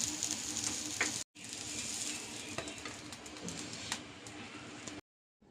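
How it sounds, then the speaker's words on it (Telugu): Bread toasting in butter over a slow flame on a stove, a soft continuous sizzle with faint crackles, broken by two brief silent cuts. "ఇది కూడా నేను బటర్ వేసి స్లో ఫ్లేమ్ మీద కాల్చుకుంటున్నానండి"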